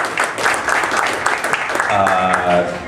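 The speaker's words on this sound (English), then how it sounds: "let's give him a round of applause" An audience at a fan convention Q&A panel applauds for actor Eric Johnson, a dense burst of clapping from a crowd indoors, with a voice rising over it toward the end.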